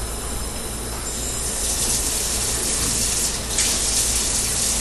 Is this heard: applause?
no